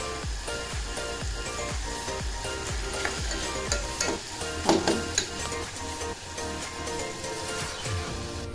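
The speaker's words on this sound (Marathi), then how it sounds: "किती छान असं तेल सुटले मसाल्याला छान असा परततो आपला" Spice masala sautéing in oil for misal, a dense continuous sizzle with repeated stirring scrapes and clinks throughout, close and fairly loud, no talking.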